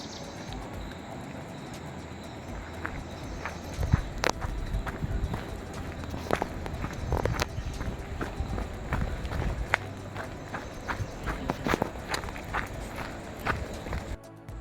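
Footsteps stepping carefully along an eroded, rutted forest path, irregular crunching steps on soil and debris at close range, with faint outdoor background.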